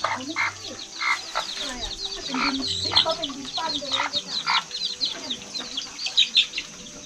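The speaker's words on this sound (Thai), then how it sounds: "ชาวบ้านก็จะเลี้ยงไก่กันนะครับ" Chickens, including black-feathered birds, kept by Hmong villagers at a forest farm, clucking and calling repeatedly over a steady chorus of insects and birds, with a voice speaking at moments underneath.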